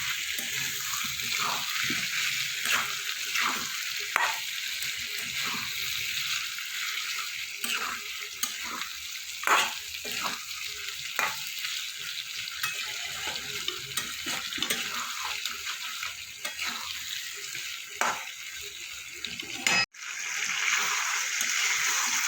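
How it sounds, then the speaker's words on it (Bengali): Chicken browning with spices in a pan for kosha murgi, a continuous close sizzle with frequent rhythmic scrapes of a stirring spoon and a brief clatter near the end, with no voices. "মশলার সাথে মাংসটা আমি কিছুটা কষিয়ে নিয়েছি"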